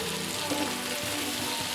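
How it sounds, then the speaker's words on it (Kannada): Steady sizzling of food frying in a pan for a home-cooked sambar with field beans, beans and ridge gourd, an even, close crackle with no talking. "ಫ್ರೈ ಮಾಡ್ಕೊಳ್ಳಿ."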